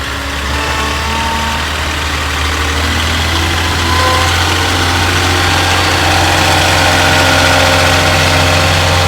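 A car engine idles steadily as the car is moved, a loud low rumble with a constant hum that grows slightly stronger midway, with no speech over it.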